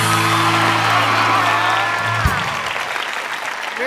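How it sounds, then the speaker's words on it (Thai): A studio audience on a Thai television talk show claps steadily to welcome guests, with a few whoops mixed in; the applause fades gradually toward the end. "ขอเสียงประมือต้อนรับคุณจอย"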